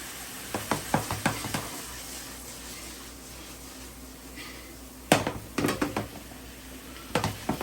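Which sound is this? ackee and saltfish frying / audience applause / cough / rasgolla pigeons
ackee and saltfish frying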